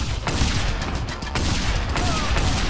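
Shotgun blasts in the open-world action game Just Cause 2, a loud rapid volley of booming shots packed close together over dense, constant background game noise, with no talking.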